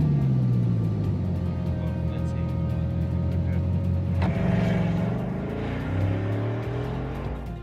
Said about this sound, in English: Should I start the engine?